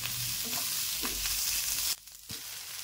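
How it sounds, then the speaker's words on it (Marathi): Masala spices fry and sizzle loudly in a pan while being stirred, with scraping strokes over the hiss, before the sizzle drops sharply and continues more quietly. "त्यात थोडंसं 2 मिनिटं फ्राय करून घेऊया आपण"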